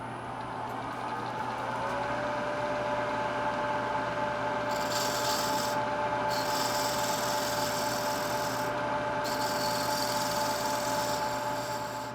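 Steady hum of a wood lathe spinning fast while turning a finial, with a faint whine, broken by scraping bursts of light cutting that start and stop.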